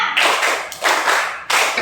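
Three bursts of hand claps or taps from a classroom group playing a counting rhythm game, each burst a dense broadband patter lasting about half a second, with short gaps between them.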